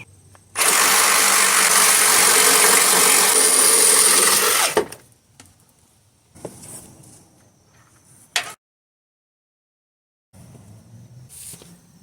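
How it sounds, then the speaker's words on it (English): Power tool cutting through a rusted, seized bolt on a rotten rear control arm of a Nissan Armada, a loud steady grinding whine lasting about four seconds, then quieter scraping bursts and short gaps. "And I'm gonna cut this bolt here from here."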